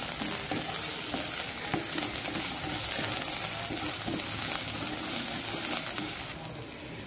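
Onions fry in a pan for a dal pitha/dal dhokli dish, giving a steady, close sizzle that runs unbroken for the whole stretch with no voices.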